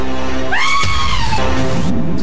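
People screaming in terror at a ghost-girl prank inside an elevator, a loud, piercing shriek rising and falling over about two seconds, very close and distorted.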